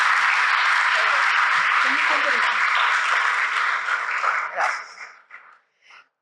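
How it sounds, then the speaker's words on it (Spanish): Audience applause fills a lecture hall after a speaker's introduction, dense and sustained for about five seconds before tapering off into scattered claps and silence. "Fuerte los aplausos, por favor."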